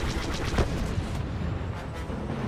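A destroyed target explodes in the Star Wars Battlefront II space campaign, producing a dense burst of rumbling blasts and crackling debris that stays loud and continuous throughout.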